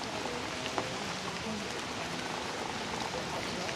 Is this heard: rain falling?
yes